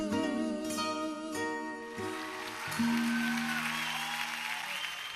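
Studio audience applause on a Christmas special, a short burst of clapping under bright musical tones and chimes that ring through the whole passage.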